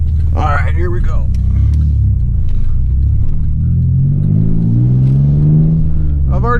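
A 2002 Pontiac Firebird with a stock V6 and manual transmission drives a backroad, its engine a loud, close, deep rumble rising in pitch as it accelerates through the gears, with someone briefly talking at the start and end.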